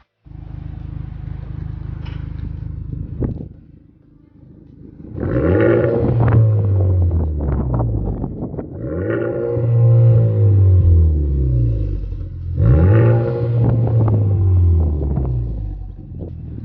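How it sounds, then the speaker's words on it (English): A newly installed aftermarket exhaust on a 2017-2019 Honda Civic Type R idles with a deep rumble, then revs hard three times, each blip swelling into a loud, raspy roar before settling, with no talking. "let you guys hear what the exhaust sounds like"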